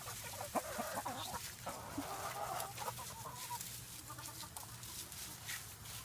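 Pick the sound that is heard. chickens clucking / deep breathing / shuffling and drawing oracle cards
chickens clucking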